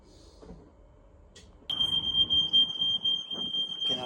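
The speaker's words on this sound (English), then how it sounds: "I've set the smoke alarms off in the house" A loud, piercing smoke alarm tone starts abruptly and sounds continuously, set off in a house by smoke from a freshly rebuilt Mini Cooper S R52 engine's first start, with clattering and low rumbling noises underneath.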